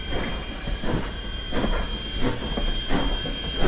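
Strasburg Railroad steam locomotive, engine 90, working hot and chuffing nearby, with repeated broad bursts of exhaust about every half second over a steady hiss and a thin high steam whistle-like tone, with no talk.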